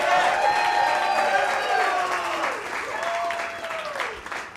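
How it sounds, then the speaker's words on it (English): A Go Bananas comedy club crowd applauds and cheers for the next stand-up comic, with steady clapping that tapers slightly while a host's voice talks over it. "get that clapping started right now for me"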